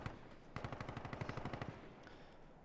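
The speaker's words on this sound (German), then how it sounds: "Wo wird denn hier geschossen?" Automatic gunfire in the video game Insurgency Sandstorm, a rapid burst of about twenty evenly spaced shots lasting roughly a second, fairly close and loud over a noisy background, with no talking.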